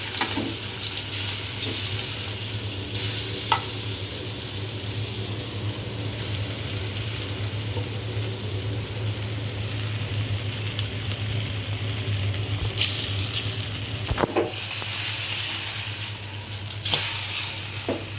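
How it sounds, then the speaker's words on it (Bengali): Hilsa fish pieces and onions dropped into hot oil sizzle steadily and loudly for the whole stretch, with a few sharp spatters and utensil clinks on top, no voices. "তেল গরম হয়ে গেছে, এবার আমি পেঁয়াজ সহ মাছগুলো দিয়ে দিচ্ছি।"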